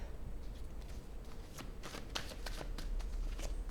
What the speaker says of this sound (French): je vais prendre une autre carte.